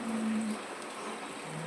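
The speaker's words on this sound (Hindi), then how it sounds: "बारिश होने लग गई, बताओ।" Rain falling during a long steady shower, heard as a soft even hiss of drops with a faint low hum underneath, continuous and fairly quiet over a short stretch.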